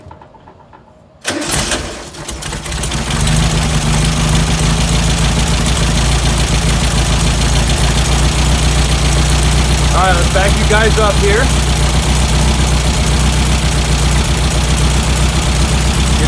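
A classic Volkswagen Beetle engine with dual carburetors cranks and catches, then settles into a loud, steady, close idle with a continuous low rumble, while someone talks over it.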